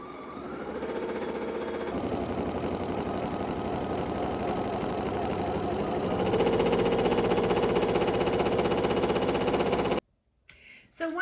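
An embroidery machine stitches perforation marks without thread, giving a steady, fast mechanical whirr that runs near and continuous for about ten seconds before stopping abruptly, with a few clunks after.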